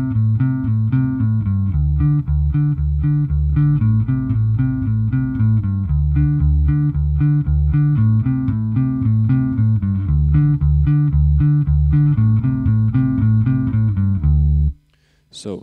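An electric bass guitar plays the repeating riff of a song in steady, evenly spaced low notes that cycle over and over before the playing stops abruptly near the end.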